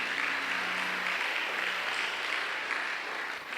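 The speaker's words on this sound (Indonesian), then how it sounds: "Beri tepukan untuk Tuhan kita Yesus Kristus" A church conference congregation in Kemabong claps together in a steady, broadband patter that fills the hall, moderately distant and continuous for a few seconds with no clear voices over it.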